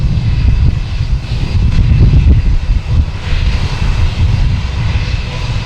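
A fixed-wing airliner flies overhead near Boston Logan Airport, its loud, continuous engine roar rising and falling slightly throughout with no voices.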